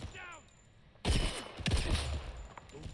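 Pistol gunfire in the video game 007 First Light: after a quiet stretch with a faint voice, a burst of loud, sharp shots cracks out, followed by more reports and echoing game action.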